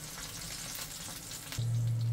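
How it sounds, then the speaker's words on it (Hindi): Chicken chapli kebabs shallow-fry in oil on a tawa over a gas flame, making a continuous close sizzle and crackle throughout, with a low steady hum coming in near the end. "अभी हम इसको शालो फ्राई कर लेंगे।"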